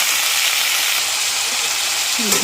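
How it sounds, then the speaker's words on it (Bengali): Potatoes and amaranth stalks fry in a pan for a fish curry, giving a steady, close, even sizzle that holds without a break throughout. "আলু আর ডাঁটাটা একটু ভাজা ভাজা করে নিলাম, বেশি একটা ভাজিনি।"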